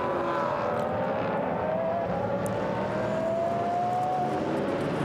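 GT race cars, including an Audi and a Bentley, pull out of the pit lane during qualifying at the Algarve circuit, a loud steady engine drone with a slowly rising tone and no pauses.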